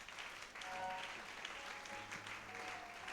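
A congregation at an evangelical church applauds in a continuous, moderately faint wash of clapping that holds steady from start to finish.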